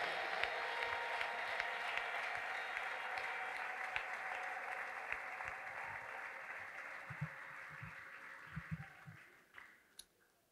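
A church congregation claps together in a long, dense roll of applause at a moderate distance, with a few louder individual claps near the end as it fades out.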